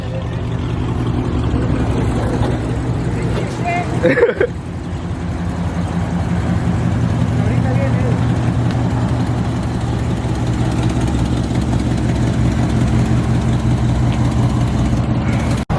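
A Dodge Charger R/T engine idles steadily at close range, a continuous low rumble that holds for the whole stretch, broken once by a brief knock.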